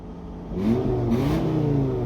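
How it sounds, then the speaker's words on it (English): A Volvo car engine revs up, pitch climbing and holding at a steady high drone, loud and close, with no voices. "give us some revs"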